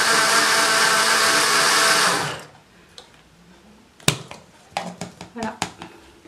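Electric mixer blending apple tart filling for a Normandy tart, a loud steady whir lasting about two seconds before cutting off, followed by light clinks and handling noises.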